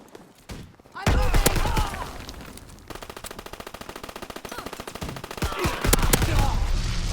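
In the World War II shooter Call of Duty: WWII, loud close bursts of automatic gunfire ring out, turning into a sustained rapid rattle of shots with scattered single cracks. Game sounds fill the background.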